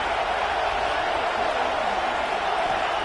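Steady, dense roar of a stadium crowd in an American football video game, a continuous wash of noise with no distinct cheers or breaks.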